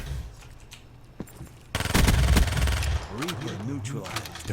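Automatic gunfire in Call of Duty Black Ops 3 erupts in a loud, dense burst after a quieter opening, continuing as rapid fire before easing while a voice talks over the game sounds.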